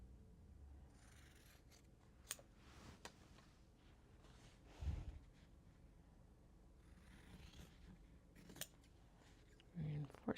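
Scissors snip through fabric pieces cut for tote bags in a quiet sewing room, with several close, crisp cuts at uneven intervals and soft handling noises between them.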